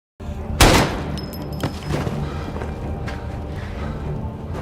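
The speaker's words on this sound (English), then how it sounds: "he shot her without hesitation" Gunshots in a film scene as an agent shoots a woman: a loud sharp blast near the start, then a few lighter cracks and thuds over a steady low rumble of background score.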